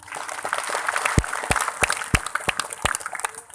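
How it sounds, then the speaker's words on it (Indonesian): A congregation at a large dzikir manaqib gathering applauds, a crowd's clapping with a series of heavy rhythmic thumps about every third of a second, loud and close. "Tepuk tangan."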